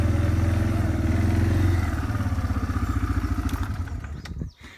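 A four-wheeler ATV engine drives along after its handbrake is released, a close, loud, throbbing motor note that holds steady and then fades with rattling and clatter as it moves.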